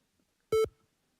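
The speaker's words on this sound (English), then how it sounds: "I just heard it beep" A single short electronic beep rings out from a computer running Office 2007 and Norton Security 2009, a clean steady tone lasting about a tenth of a second in an otherwise quiet room.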